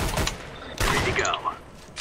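Gunfire in the video game CS:GO, a few sharp shots in quick bursts during a Phoenix Compound match, with players' voices talking over and between the shots.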